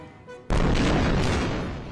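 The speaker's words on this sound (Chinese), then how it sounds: "加沙地带的枪炮声仍未停歇" Shelling and gunfire in the Gaza Strip: after a quieter moment, a sudden loud explosive blast bursts in close by, then a heavy rumbling roar holds and slowly fades.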